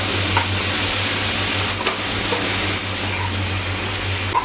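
Mint and coriander leaves sizzle steadily in a hot pan while being stirred, with occasional scraping clicks over a constant low hum.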